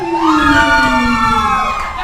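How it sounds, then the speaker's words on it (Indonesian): A crowd of futsal supporters at a tournament match in Banda Aceh shouts and cheers loudly together in one sustained, rising and falling burst of many voices. "Teriakan dari banyak supporter Bola FC."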